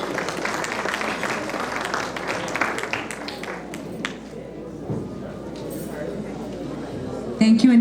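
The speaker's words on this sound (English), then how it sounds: "Big round of applause for our singers who put up such a beautiful dance for us." Audience at a Gurudev Jayanthi celebration claps in sustained, dense applause that fills the room, steady and fairly loud, fading slightly near the end.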